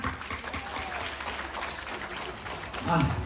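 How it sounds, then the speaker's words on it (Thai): Scattered crowd clapping outdoors at a Thai buffalo show in Chiang Mai, mixed with background chatter and a loudspeaker announcer's voice, with a brief louder burst near the end. "ขอเสียงปรบมือครับ"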